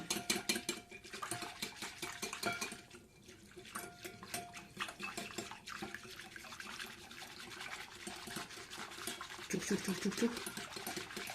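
Gelatin and sugar mixture whipped by hand for a two-ingredient dessert, a steady rapid whisking clatter running continuously at close range with background noise.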